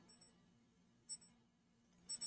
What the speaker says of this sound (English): It's the midnight alarm.